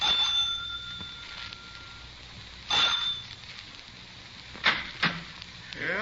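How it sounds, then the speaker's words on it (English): A front doorbell rings with a bright sustained tone at the start, followed by a few sharp knocks and clatters in an otherwise quiet house at night. "I rang the front doorbell."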